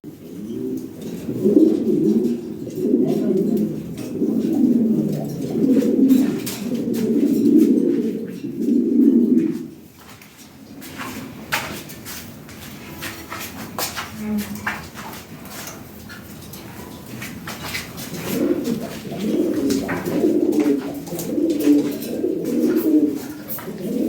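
Lahori pigeons coo nearby in a loft, rhythmic low throaty bubbling coos in repeated bursts, a quieter gap in the middle, then the cooing resumes; no talking.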